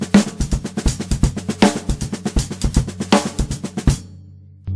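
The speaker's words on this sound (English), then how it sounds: "come down for the 2 and 4 onto the snare" Drum kit playing a paradiddle-based groove with the snare landing on beats 2 and 4, a brisk run of crisp close-miked strokes and accents that stops suddenly, leaving a short ringing tail.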